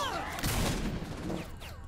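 Shotgun fire in the Saints Row IV video game: a dense burst of booming blasts at close range, with a loud cluster near the middle and further shots trailing off, over steady game background noise.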